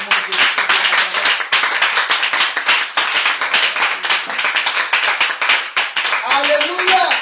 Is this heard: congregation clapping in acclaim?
yes